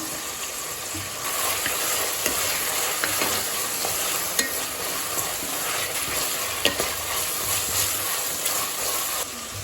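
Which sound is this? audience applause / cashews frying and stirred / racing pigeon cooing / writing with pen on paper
cashews frying and stirred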